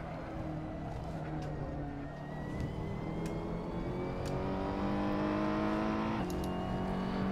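A race car in a racing video game accelerates, its engine note rising steadily in pitch over several seconds with a continuous whirring drone and faint background chatter.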